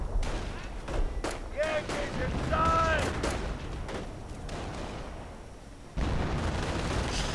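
Heavy machine gun fire and battle noise in a real-time strategy game match: bursts of rapid shots and booming explosions roll through a dense, continuous wartime din, with some louder surges.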